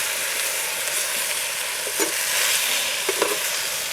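Chicken masala for chicken pulimunchi being stirred and mixed in a sizzling pan, a steady frying hiss throughout with a few soft scrapes and knocks of the spoon.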